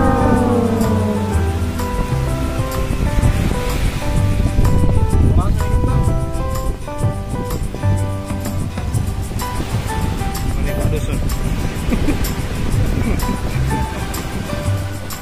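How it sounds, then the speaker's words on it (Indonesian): Big ocean waves crash and surge at the shore in bad weather, a loud, continuous roar of surf with wind noise, while people talk over it. "Perahunya kita mau naikkan dulu guys, karena ombaknya sudah besar."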